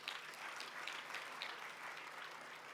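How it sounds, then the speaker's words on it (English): A large audience at a constitutional anniversary event gives warm, sustained applause, a dense, even wash of clapping heard from a distance. "Another warm round of applause."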